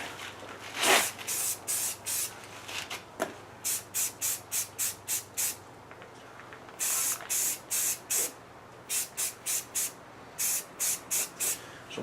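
A spray can of self-etching primer hisses onto a Cherokee bumper on a still, calm day in quick repeated bursts, some longer sprays then rapid short pulses in clusters, close and loud with brief gaps between.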